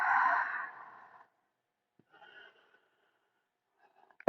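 A deep, audible exhale during ujjayi breathing in a yoga flow, long and breathy at first, followed by a quieter, shorter breath after a pause, close and alone with no talking.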